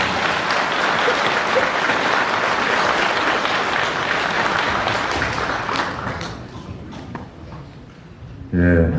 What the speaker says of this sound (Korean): 감사의 박수를 전합니다